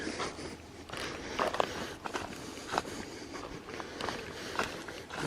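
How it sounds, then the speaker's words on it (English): Footsteps on a forest floor in Carroll Cabin Barrens State Natural Area, a remote Tennessee barrens, a steady run of soft crunching steps through leaf litter, close and moderately quiet over faint outdoor ambience. "Just my footsteps."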